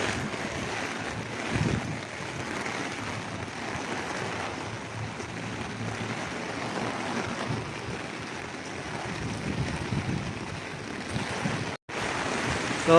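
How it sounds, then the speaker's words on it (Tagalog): Strong wind and heavy rain during a stormy night, a steady broadband roar of downpour and gusts buffeting the microphone, continuous and loud with brief dips. "Ang lakas ng ulan, ang lakas ng hangin."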